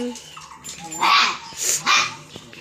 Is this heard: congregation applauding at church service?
no